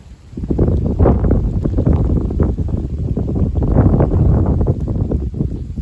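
Gusty south-west wind with rain, a steady rushing roar buffeting the microphone throughout, loud and close with uneven surges.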